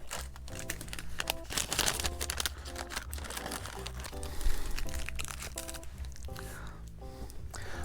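A deck of trading cards is slid into a crinkly paper sleeve, giving dense close crackling and rustling throughout, with a louder crinkle midway and musical tones underneath.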